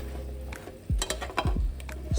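Zucchini and squash tossed with seasonings in a pan, giving a few scraping, rattling stirs and a soft sizzle in quick succession, close up with no talking.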